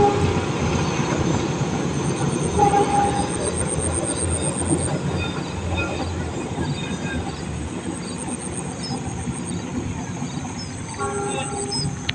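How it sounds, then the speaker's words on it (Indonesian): The Cikuray passenger train rumbles steadily past nearby, climbing uphill toward Lebak Jero station in West Java, Indonesia, wheels clattering and squealing on the rails, loud and continuous throughout. "Kereta api Cikuray terus menanjak persiapan masuk di stasiun Lebak Jero."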